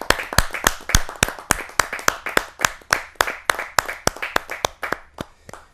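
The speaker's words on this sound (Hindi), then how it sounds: "जोरदार तालियों के साथ" A small audience claps for a poet at a Hindi kavi sammelan, a loose run of distinct, sharp hand claps in an uneven rhythm that fades out toward the end.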